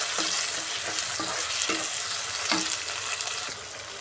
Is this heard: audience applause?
no